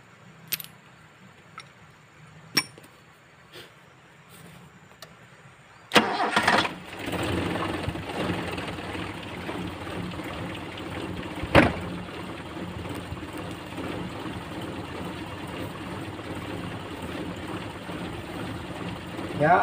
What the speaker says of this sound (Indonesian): Sekarang akan kita coba untuk starter mobilnya lagi.